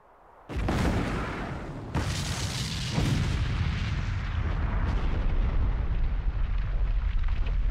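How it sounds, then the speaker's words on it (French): An avalanche in the video game Eiyuden Chronicle: Hundred Heroes crashes in with a sudden loud boom, then a sustained heavy, rumbling roar that rolls on continuously, with no talking. "Ah ouais, il va y avoir l'avalanche."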